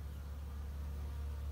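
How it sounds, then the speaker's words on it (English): A dense, steady buzz of many honeybees flying at a hive entrance in midwinter, a continuous droning hum with no pauses. "Let's see if you can see how many bees are flying around this entrance"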